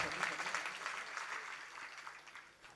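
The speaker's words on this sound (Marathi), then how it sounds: "जोरदार टाळ्या वाजवा आपण त्यांच्यासाठी." Villagers at a kirtan gathering in Balapur give hearty applause, a fairly faint, continuous rustle of many hands that slowly tapers off toward the end.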